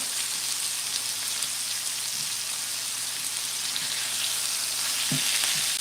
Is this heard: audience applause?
no